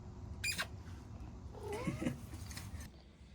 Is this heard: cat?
yes